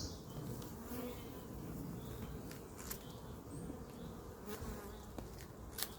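Honeybees hum around an open hive frame during a beekeeper's inspection of a young colony, a soft, continuous, dense buzz with occasional louder individual bees passing close.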